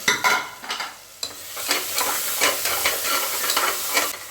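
Three tomatoes sautéing in a pan for a vegetable egg kurma, crackling sizzle broken by repeated scraping stirs of a spatula, close and fairly loud, no voices.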